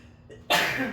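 A short breath is followed by a sudden, loud, noisy burst from one person close by, a sneeze ending in a trailing exhale.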